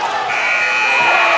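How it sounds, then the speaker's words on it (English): A basketball halftime buzzer sounds at a Nov. 2023 game between the Indiana Lyons and Hoosier State Instigators, a loud sustained electronic tone running the full length over crowd noise in the arena. "And Bloom gets the shot up and in, but beats the buzzer"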